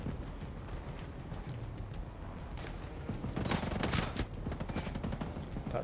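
Rapid turret gunfire in the Ghost Recon Breakpoint video game, a sustained stream of shots under dense in-game noise that builds into louder bursts toward the middle.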